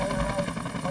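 A Marine-piloted FBI helicopter flies low at 250 to 300 feet, giving a steady rotor and engine drone in a brief, moderately loud burst with a faint voice underneath.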